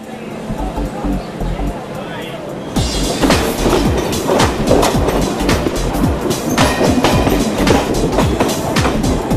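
Rhythmic clattering of train wheels on rails with steady rumbling on a train in India, growing louder partway through, as a voice speaks faintly in the background.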